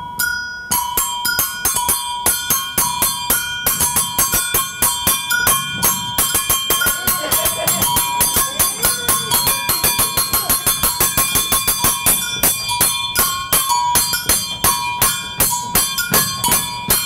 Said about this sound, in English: we keep it following these clavers and these bells